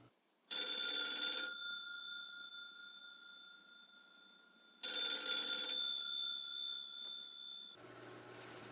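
Two long bursts of an old telephone bell ringing in a 1950s setting, each a loud metallic trill lasting about a second, separated by a pause, with a different noise starting at the end.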